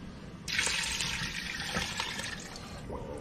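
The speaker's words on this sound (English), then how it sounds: "All right, we're gonna put some water in here." Water runs steadily into a pot for lobster bisque, starting suddenly after a brief quiet moment and keeping up a continuous close rush that eases slightly near the end, with no talking.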